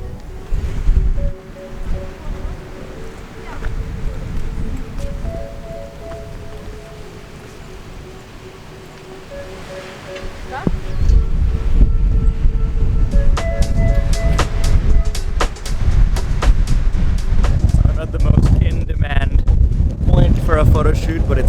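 Wind on a rainy mountain viewpoint near Interlaken roars and buffets steadily, swelling noticeably louder halfway through and staying strong to the end.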